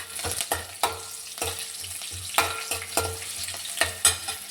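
Green chillies dropped into hot oil with tempering seeds for a cauliflower curry, sizzling steadily while a spoon scrapes and stirs in repeated clattering strokes, close and moderately loud with no talking.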